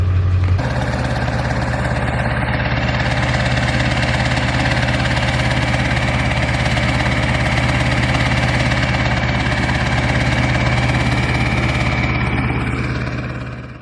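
Ford 7.3 Powerstroke diesel engine on a cold start in snowy weather, catching after a brief crank and settling into a loud, steady, rumbling idle with a constant low drone and knock, close and alone throughout.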